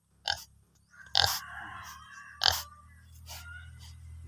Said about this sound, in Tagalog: Yan po, baboy ramo.